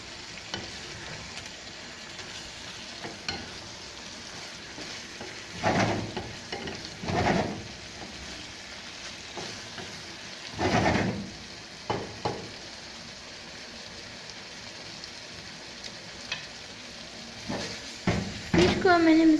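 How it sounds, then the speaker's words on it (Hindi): Fish coated in masala fries in a pan with ghee for biryani, a steady low sizzle broken by several louder bursts of spattering and stirring, heard close with no talking. "अब मैं इसको मज़ीद 1-2 मिनट फ्राई करूँगी"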